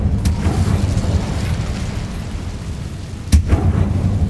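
An Incendio fire spell goes off in Hogwarts Legacy with two sharp bursts, one near the start and a heavier whoosh-boom later, over a steady low rumble.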